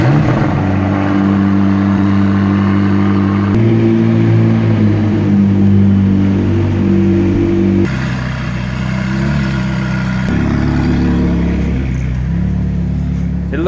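A BMW M2 and a McLaren 675LT sit outside a Fast & Furious 8 premiere as one is cold-started, giving a loud, steady low engine drone with a sharp step change in pitch partway through and a throaty idle continuing throughout.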